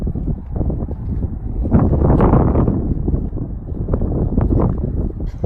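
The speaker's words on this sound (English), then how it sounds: "might be windy out here, so apologize for the noise." Steady wind buffets the microphone outdoors in Casper, a loud low rumbling roar that swells and eases without any other clear sound.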